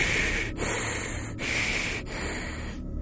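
A voices heavy, rasping breaths in imitation of an axe-wielding figure in a big top hat stepping out of the woods, with three long, loud hissing exhales separated by brief pauses.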